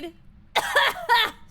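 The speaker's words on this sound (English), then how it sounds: "My old lady cough." Two short, sharp coughs from an adult woman, loud and close, with a brief pause between them and near silence before.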